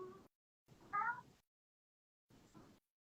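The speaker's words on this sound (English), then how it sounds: "Do you hear that though? It's my cat." A house cat meows three times in separate short bursts, the middle call the loudest, heard close but fairly quiet in an otherwise silent room.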